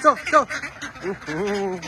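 Ducks on a small farm give a few short, close, nasal quacks and honks over about two seconds, with a voice partly mixed in.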